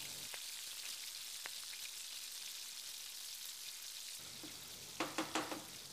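Onions frying in a pan, a quiet steady sizzle with a couple of faint clicks, then a few sharp stirring knocks near the end.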